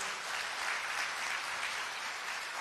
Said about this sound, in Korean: 박수 좀 크게 쳐주십시오